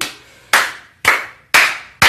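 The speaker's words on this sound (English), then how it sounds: "Can you all clap?" Four loud, sharp hand claps sound up close at an even pace of about one every half second, each fading quickly, with no voices.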